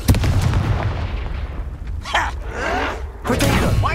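Confringo fire spell blasts in a Harry Potter video game, a loud booming burst followed by crackling, repeated explosive hits across a few seconds over a constant low rumble.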